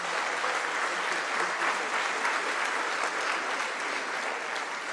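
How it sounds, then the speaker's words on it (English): Steady, dense applause from a conference audience at an international heritage gathering, sustained and even throughout without a break. "A warm round of applause for His Excellency"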